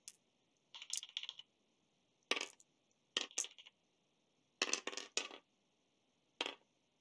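Dice rattle and clatter inside a board game box in several short bursts of clicking, separated by quiet gaps, close and fairly soft.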